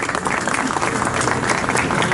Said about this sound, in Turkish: Şimdi İnegöl Belediye Başkanımız Sayın Alper Tavar'ı da alkışlarla kürsüye davet ediyoruz.